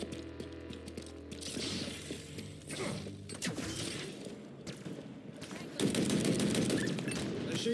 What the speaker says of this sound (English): Machine guns suit you